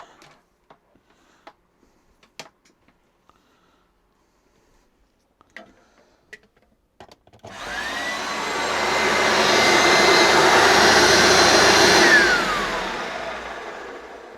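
An American-made Electrolux The Boss vacuum cleaner with freshly lubricated brush roll bearings switches on after a few faint clicks and handling noises, rising to a loud, steady whine that holds for several seconds, then begins to wind down.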